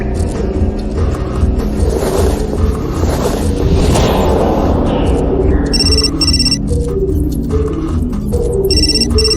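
A phone rings in the video game Still Life 2: after several seconds of low rumbling ambience, a bright electronic ringtone breaks in with repeated pulsing bursts, loud and close.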